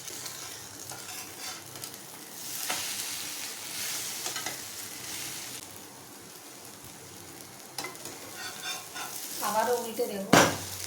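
Egg-coated bread omelette sizzles steadily in a pan, with scraping and flipping sounds, a clink of utensils near the end and a sharp closing clatter.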